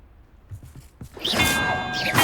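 Bells rung by a spell in the Hogwarts Legacy video game, with a bright clang that swells after a quiet start and rings on loudly with sustained metallic tones.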